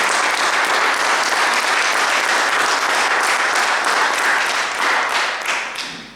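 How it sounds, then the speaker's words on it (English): A loud burst of audience applause, thick and continuous, easing off slightly toward the end. "please give a big round of applause to Reena Silva."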